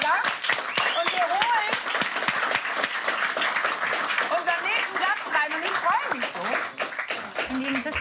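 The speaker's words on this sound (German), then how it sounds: "Also ich sage Applaus für Honig im Kopf und für Till Schweiger." A crowd applauds with sustained clapping, while voices call out and talk over it.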